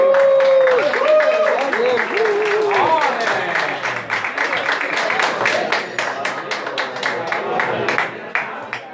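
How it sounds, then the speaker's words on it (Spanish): After a voice speaking, an audience bursts into sustained applause, a dense patter of many hands that carries on steadily before tapering slightly at the end. "fuerte aplauso para ella"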